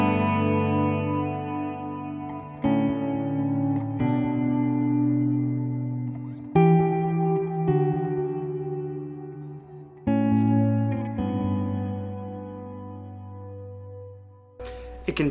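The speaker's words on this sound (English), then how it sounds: "here's a much bigger delay and reverb with the same amps" Electric guitar chords through an HX Stomp ring out with long echoing delay repeats and a wide, washy reverb tail, several strums spaced a few seconds apart.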